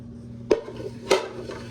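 Two metal pans clank against each other, a couple of sharp knocks about half a second apart, close by in a quiet room.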